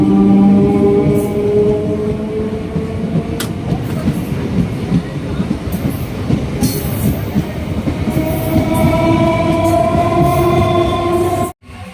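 The Puducherry–Tirupati MEMU express pulls out of Palur station, its wheels rumbling loudly and continuously with clattering rail joints and faint squeals, the steady roar running close up throughout before cutting off sharply.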